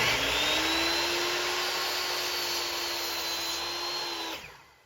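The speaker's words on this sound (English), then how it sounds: "we can get them cut on the chop saw" A chop saw whines loudly through a wooden board in one sustained, close cut lasting several seconds, then spins down and fades at the end.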